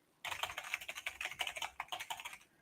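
Mechanical keyboard typing, a fast, steady run of crisp clicks close up, alone with no talk, lasting a couple of seconds.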